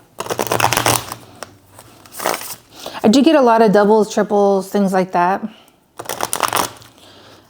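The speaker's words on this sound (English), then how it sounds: "But I haven't shuffled them, so let's shuffle." Brisk riffle-shuffling of a tarot card deck in short bursts, with a person talking in the middle between shuffles.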